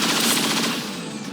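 A short burst of rapid automatic gunfire from the XCOM 2 video game, dense and loud, with back-to-back shots rattling continuously for over a second before tailing off slightly.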